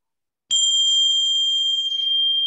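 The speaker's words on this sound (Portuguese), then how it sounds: "e quando eu bater o sininho," A small meditation bell sounds abruptly after a moment of silence, holding a clear, high, steady ringing tone alone.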